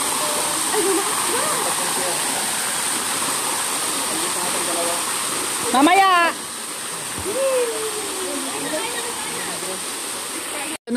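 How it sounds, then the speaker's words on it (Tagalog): Heavy rain pours steadily under a bridge, a dense continuous wash of falling water with a brief burst of voices shouting over it midway. "Malakas ang ulan."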